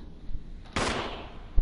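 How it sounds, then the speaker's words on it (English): Gunfire in the Resident Evil video game, a single sharp burst that rings out after a brief lull and then fades, with no talk over it. "Gunfire."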